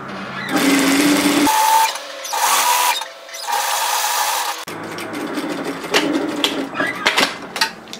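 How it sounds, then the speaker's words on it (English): A sewing machine stitches a 1 cm seam along folded bag straps in loud, close bursts of fast whirring, broken by short stops and followed by rubbing and handling of fabric. "we're going to fold them in half lengthwise and sew a 1 centimetre seam"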